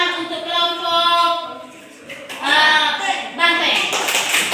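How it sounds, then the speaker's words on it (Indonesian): A classroom group claps for a team of students, a burst of applause that mixes with a teacher's voice and children talking. "Ayo tepuk tangan untuk kelompok"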